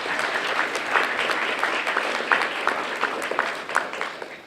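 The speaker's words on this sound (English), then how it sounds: "I hope you'll give her a little round of applause." Moderate audience applause at a youth poetry competition in San Antonio, with individual claps standing out sharply in a steady, fairly soft patter that continues throughout.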